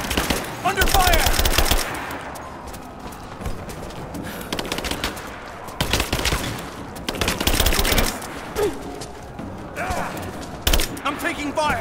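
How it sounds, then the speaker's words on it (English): Rise of the Tomb Raider gameplay carries loud bursts of rapid machine gun fire and single gunshots in clustered volleys, mixed with shouted game character voices. "I'm taking fire!"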